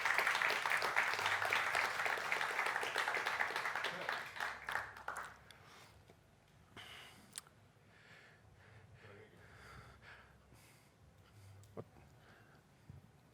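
Audience applause at a basketball press conference, a soft, distant round of clapping that tapers off within a few seconds, followed by quiet room noise and a few faint knocks.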